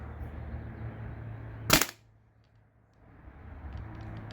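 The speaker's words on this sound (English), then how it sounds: "I think I got one more round. I'm just going to shoot" A single sharp pop from a Tippmann TiPX paintball pistol running on CO2 cracks out close and loud over a low background hum, then fades to quiet.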